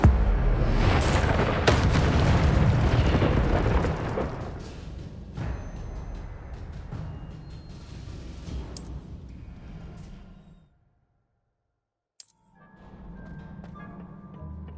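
A fire spell cast in the video game Hogwarts Legacy roars loudly at first with a crackling, booming burst, then fades to a quieter rumble, drops to brief silence, and returns with fainter ambient noise.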